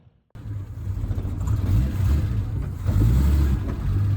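A 1970 Triumph TR6 on a road test drive, its engine rumbling close and steady from inside the car, rising in loudness near the end as it pulls harder, with no talk.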